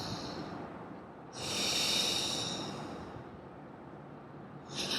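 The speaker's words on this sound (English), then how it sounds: "Take another deep breath in." A slow, deep breath drawn in through the nose, close and soft, swelling for about two seconds, then fading, with a brief second airy sniff at the end.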